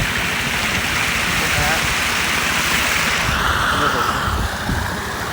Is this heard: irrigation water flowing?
yes